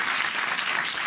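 A studio audience at a Norwegian year-end comedy revue breaks into brief, dense applause, steady and close throughout with no voices over it.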